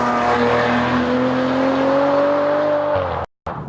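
A Maserati Ghibli sports car engine pulls hard at high revs, its steady tone rising slowly before dropping off as it shifts; loud and close, ending with a brief cut.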